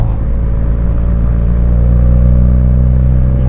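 A Honda Civic Type R FK7 cruising along the smoothly paved Hakone Kintaro Line mountain road, its engine a steady loud drone with constant road and wind roar, no voices.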